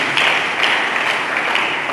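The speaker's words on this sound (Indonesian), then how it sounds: "Mari kita berikan tepuk tangan bagi Yesus." Church congregation applauding during a sermon, a steady wash of many hands clapping at moderate loudness with no pauses.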